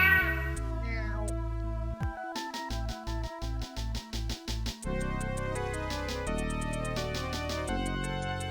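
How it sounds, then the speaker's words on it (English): Synthesized cat meow from the video game Snatcher, heard as pitched tonal bursts and a rhythmic run of short repeated notes over game music, loud and alone without talk. "let's hear the cat noise"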